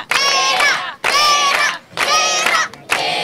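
Schoolchildren at a public school in Dougoï, Maroua, cheer loudly during a gift presentation, shouting together in four sharp bursts with brief pauses between them.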